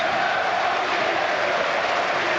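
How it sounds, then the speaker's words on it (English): Leyton Orient supporters in the East Stand of their football stadium give a standing ovation: a continuous wash of applause from a large crowd, even and sustained throughout, with no voices standing out. "they receive a standing applause from the Orient supporters over in that East Stand"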